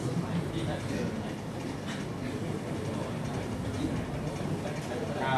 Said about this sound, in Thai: เขาเอารถไฟมารับ